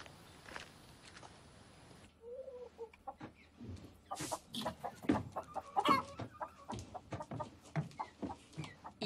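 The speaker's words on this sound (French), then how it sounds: "Il a un nom, ton poulet?" A chicken clucks repeatedly at close range in short, uneven bursts, mixed with light scratching and shuffling steps, after a quiet opening stretch.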